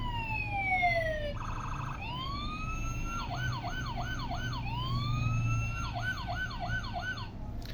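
Battery-operated plastic toy fire brigade truck sounding its electronic siren, alternating long sweeping wails with fast repeated whoops, steady and close, with no talking over it.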